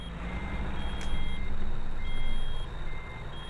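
An American Truck Simulator rig sounds a steady, repeating electronic warning beep for low brake air pressure, clear over a constant low engine drone and cab rumble.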